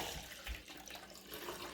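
Excess water drains off soaked rice and urad dal, a short, faint trickling pour close by with no talk.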